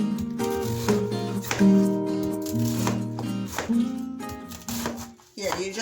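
Cooked brisket being rough cut with a knife, a series of close, irregular chopping and slicing strokes against a board, with someone speaking over parts of it.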